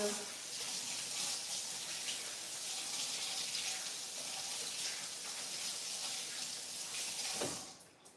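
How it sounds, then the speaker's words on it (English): Kitchen tap water runs steadily into a sink while hands are washed between cooking steps, a constant bright hiss with small splashing shifts that cuts off near the end. "I'm going to wash my hands so that I can continue cooking."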